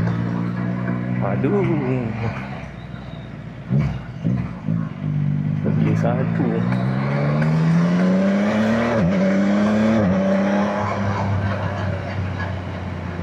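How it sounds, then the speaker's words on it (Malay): Motorcycle on a test ride, its engine note rising and dropping through repeated revs and gear changes close by, with people speaking briefly over it. "Motor test ride."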